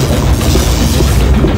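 Explosion from The Black Mirror point-and-click adventure game, a dense, loud low rumbling roar that fills the whole moment continuously without pause.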